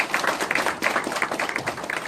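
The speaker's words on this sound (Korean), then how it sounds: "여러분들 심찬 박수 다시 한번 부탁을 드립니다." An audience claps at the opening ceremony of a Korean industrial research institute's Gumi branch, a brief burst of dense applause made of many overlapping hand claps, with no talk over it.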